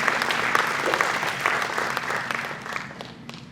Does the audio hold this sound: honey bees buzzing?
no